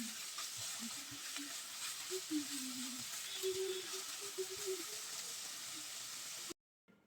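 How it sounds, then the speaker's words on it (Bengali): Potatoes and bitter gourd fry with onion in a pan, a moderate hiss of sizzling oil with soft scraping and clinks as they are stirred, running steadily before cutting off abruptly near the end. "আলু করলা নেড়ে চেড়ে 1 মিনিটের মতো ভেজে নেব।"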